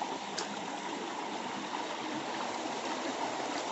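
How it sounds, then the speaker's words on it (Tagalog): Clear, cold stream water flows steadily over rocks outdoors, producing a continuous, fairly close rushing and gurgling that stays even throughout with no talk. "Ini ang tubig Tinaw kayo nga tubig, bugnaw."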